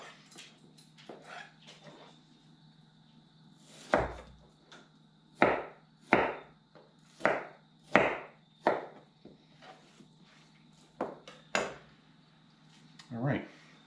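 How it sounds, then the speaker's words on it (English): A knife chops meat into small cubes for homemade hot sausage, giving a series of sharp, irregular thuds on the cutting board, several in quick succession and some louder than others, with quiet background between strikes. "So I'm going to cut those into small sections to allow them to easier access to the grinder"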